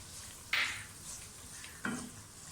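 Onions with green chili paste frying in oil for a masala mash dal fry, a soft steady sizzle marked by two sharp stirring scrapes, close and fairly quiet, with no talking.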